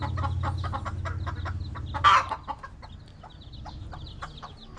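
Bantam chickens in a pen cluck softly and steadily close by, with one sharp louder squawk midway over a low hum.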